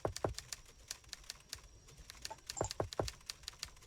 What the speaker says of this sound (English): I'm typing right now.